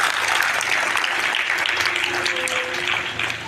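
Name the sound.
children's applause at a school assembly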